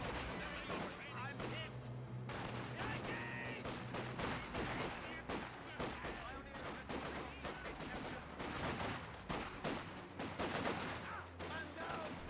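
Squads exchanging gunfire in the Company of Heroes 2 strategy game, dense rattling bursts of rifle and machine-gun shots with occasional booms, mixed with in-game voices.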